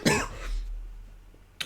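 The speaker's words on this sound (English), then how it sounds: "That was just my cough." A single loud, harsh cough from a man on a movie-talk show, close to the mic, trailing off quickly with a short breathy sound at the very end.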